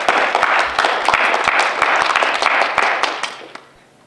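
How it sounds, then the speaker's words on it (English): A school audience applauds new National Honor Society members at an induction ceremony, with dense, steady clapping from many hands that holds for about three seconds before thinning out and fading. "please join me once again in applauding all of our new National Honor Society members"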